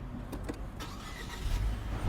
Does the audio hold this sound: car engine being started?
yes